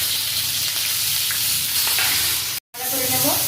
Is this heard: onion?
yes